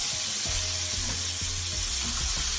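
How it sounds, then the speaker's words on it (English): Jerk burgers sizzling on a grill, a steady loud hiss of frying fat with occasional soft clunks and pops, no talking. "we're gonna leave them to grill"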